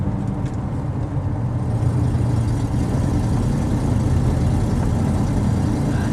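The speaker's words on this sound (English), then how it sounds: "Sounds like it's got a slight header leak." A 1970 Ford Mustang fastback engine with a slight exhaust header leak runs at a steady idle, a continuous close and fairly loud low rumble with no talk.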